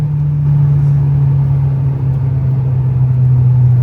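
A Mitsubishi 4G93 SOHC turbo engine in a budget Evo pulls hard on a dyno, a loud, steady low drone that holds an even tone for several seconds with no break.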